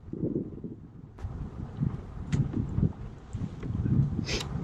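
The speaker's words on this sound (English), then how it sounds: "That wind is picking up." Wind gusting across a lake campsite, a steady low rumble and buffeting on the microphone that rises and falls over a few seconds with faint rustling.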